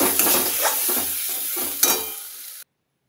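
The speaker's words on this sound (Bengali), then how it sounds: "এবার একদম লো ফ্লেমে দিয়ে ভাজতে থাকবো" Pointed gourd paste fries on a low flame, a close, hissing sizzle punctuated by repeated scraping stirs of a spoon in the pan before cutting off abruptly.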